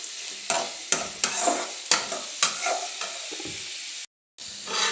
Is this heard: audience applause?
no